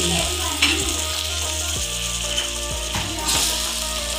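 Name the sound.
spice masala frying in a pan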